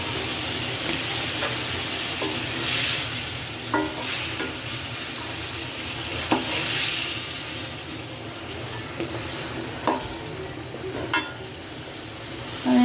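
Rohu fish head browning in spice masala in a pan, a low continuous sizzle broken by scraping stirs and occasional sharp clinks of a spoon against the vessel, heard alone without talk.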